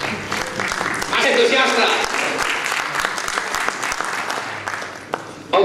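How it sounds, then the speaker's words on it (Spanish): Audience applause at a Spanish-language talk on Z-Wave home automation at CIFP Santiago de Compostela, steady dense clapping filling the room with a voice calling out over it. "Un aplauso, por favor."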